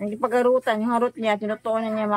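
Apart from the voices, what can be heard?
No everyday noises stand out.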